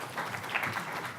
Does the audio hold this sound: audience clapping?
yes